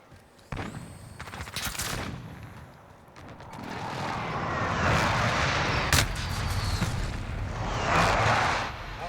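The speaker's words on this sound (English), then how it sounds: "Enemy precision airstrike. Take cover." A precision airstrike lands in Call of Duty Modern Warfare hardcore multiplayer: a jet roars overhead while a rumbling chain of explosions builds and swells for several seconds, loud and dense, with sharp impacts punctuating it.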